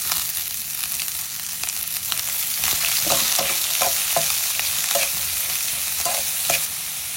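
Chopped big onion, green chili, carrot and beans stir-fry in a pan for a breakfast dish, giving a steady sizzle broken by repeated scraping and tapping of the spatula.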